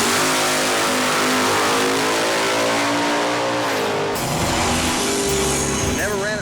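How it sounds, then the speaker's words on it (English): A Chevrolet El Camino engine revs hard at an East Coast Pinks drag racing event, rising steadily in pitch and then dropping as it shifts or passes, loud and close, with voices talking over it. "here comes the El Camino"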